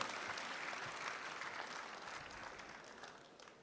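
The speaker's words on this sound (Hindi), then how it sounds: "बहुत सारी तालियों में जनाब बेकल उत्साही साहब।" Steady, fairly distant applause from an audience welcoming a poet onstage at an Indian Republic Day kavi sammelan and mushaira, a continuous wash of clapping with no voices over it.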